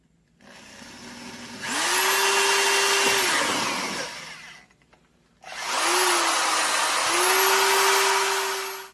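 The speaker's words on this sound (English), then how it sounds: "Okay, so we'll drill us a hole in the middle of our cap here." Two bursts of a power drill whirring at high speed while drilling a hole through the middle of a cap, each lasting a few seconds, with a brief pause between them.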